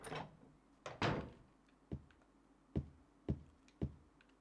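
A door in Silent Hill 3 opens with a creak and a heavy thunk, followed by a series of evenly spaced dull thuds, like footsteps or latch knocks, all fairly close and distinct.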